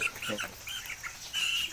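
Chickens clucking nearby in short, faint, irregular bursts, with a brief higher squawk toward the end.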